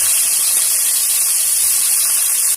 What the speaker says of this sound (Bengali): প্রথমে আমি চিংড়ি মাছটা ভেজে নিচ্ছি।